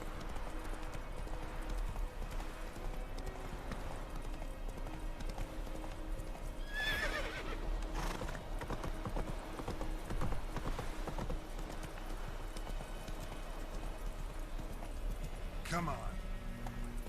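Horse hooves clip-clop steadily in a video game, a continuous trotting rhythm with a whinny partway through and a voice talking over it.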